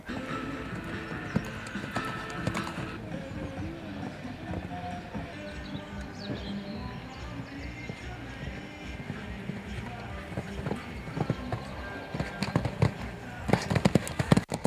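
Hooves of young six-year-old horses in a timed show jumping class, rapid rhythmic thudding mixed with crowd murmur and announcer talk, growing busier with sharp knocks toward the end.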